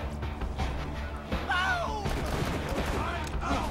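Gunfire in the Borderlands 2 video game rattles in dense, continuous bursts with heavy thumping impacts, loud and close throughout, while a person talks over the shooting.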